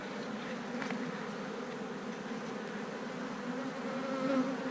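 Honey bees drone in a steady, dense buzz from a hive holding pollen and honey, close and continuous with small rises in pitch and no voices.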